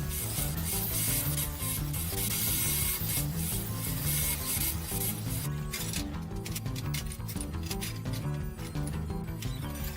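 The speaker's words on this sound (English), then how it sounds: "I took it to the sander and beveled each edge to prep for welding" Loud, continuous grinding rasp of a power sander bevelling the edges of cut metal pieces being prepped for welding, shifting in pitch as each edge is worked.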